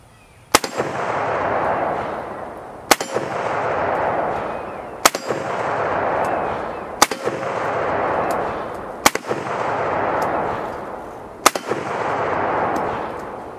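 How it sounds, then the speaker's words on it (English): An M1 Garand rifle fires six loud, sharp shots at an even pace of about two seconds apart, each followed by a long rolling echo across open ground, with no talking. "Man, I love the sound of that Garand ping."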